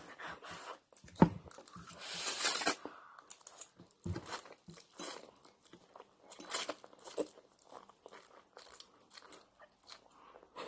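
Someone eats spicy Buldak fried noodles, giving faint, irregular chewing and soft crunching bites up close in a quiet room.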